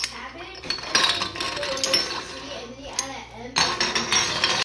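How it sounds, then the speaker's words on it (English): Glass bottles clink and knock together as they are pushed into hot water for sterilizing in a home kitchen while making mango habanero hot sauce, with irregular bright clatters and splashing. "I'm going to start sterilizing some bottles over here."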